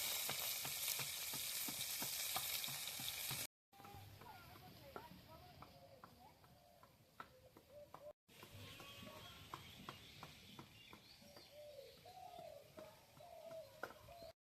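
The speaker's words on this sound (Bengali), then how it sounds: "মাছটি ভেজে নেব।" Fish fries in hot oil in a home kitchen, a faint crackling sizzle with scattered pops and clicks, interrupted by brief cuts, while birds chirp and coo in the background.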